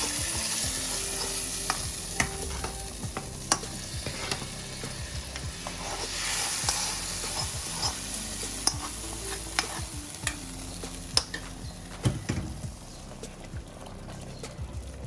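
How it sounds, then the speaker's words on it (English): Tempering sizzles as it is poured into dal makhani cooking on the stove, a steady crackling fry with scattered clicks and stirring knocks running throughout, close and fairly loud, with no talking. "I'll add this tempering to the dal that is being cooked."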